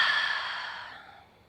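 A single forceful exhale through the mouth during a breathing exercise, a breathy rush that starts strong and fades over about a second, close and alone.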